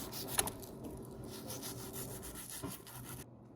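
A knife trims tough lining off moose meat, a close rasping scrape that drags steadily for a few seconds before cutting off abruptly.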